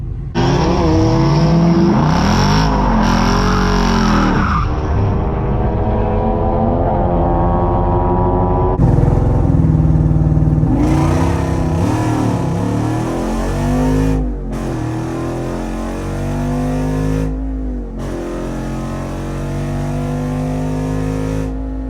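A Jeep Wrangler Rubicon 392 on massive tires drag racing, its V8 roaring loudly through hard acceleration runs with rising revs, abrupt shift breaks and repeated bursts of full-throttle engine noise.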